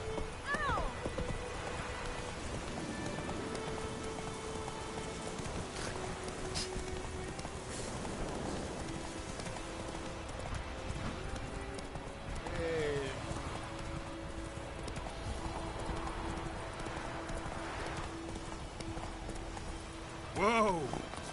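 Geralt's horse Roach galloping in The Witcher 3, rhythmic hoofbeats running steadily for the whole stretch, fairly faint, under game music and occasional voices.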